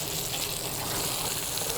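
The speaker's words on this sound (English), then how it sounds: "Going to go ahead and flip the steak." Steak frying in a pan, a steady dense sizzle and crackle that stays loud and even throughout, close up with no talking.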